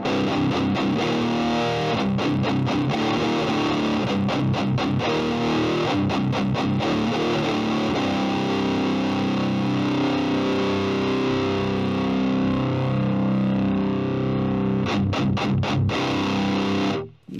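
Distorted electric guitar through a Presonus Ampire amp simulator with the tone set to all mids, chugging palm-muted riffs and sustained chords, loud and dense with a boxy tone and rhythmic stops.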